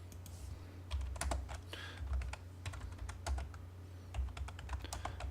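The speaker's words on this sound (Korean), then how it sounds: "이 단축키 O를 입력하시고 엔터를 클릭을 하시고요." Keys clatter on a computer keyboard as a shortcut is typed and Enter pressed in AutoCAD, a quick irregular run of close clicks in small bursts over a low background hum.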